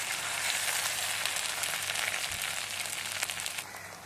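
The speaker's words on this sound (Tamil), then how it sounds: "இஞ்சி பூண்டு பேஸ்ட் நல்லா வதங்கிருச்சு, கலரும் மாறிடுச்சு" Ginger garlic paste sautéing in a pan for Kerala-style beef chukka, giving a steady, fairly faint hiss and crackle of frying that holds without pause and with no voices.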